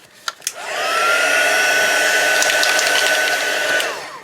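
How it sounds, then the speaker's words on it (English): A heat gun dries wet paint on a junk journal cover, its blower whine rising in pitch as it spins up, holding a steady loud hum, then winding down, with a couple of clicks at the start and end. "I'm just going to pop on my heat gun again and just dry that off"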